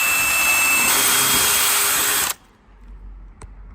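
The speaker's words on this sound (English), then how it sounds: "Drill another big hole." A power drill bores a hole in the rear bumper of a Corvette C8, whining loudly and continuously for about two seconds, then cutting off abruptly to near silence with a faint click.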